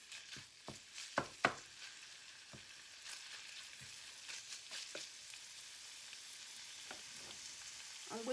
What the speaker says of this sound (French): You need to cook the meat until it's brown.